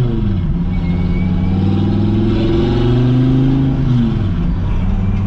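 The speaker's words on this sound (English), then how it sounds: "I have some crazy titanium exhaust on there" A Dodge Viper ACR with a titanium exhaust revs loudly and close by, its deep throaty exhaust note climbing, holding, then dropping back down.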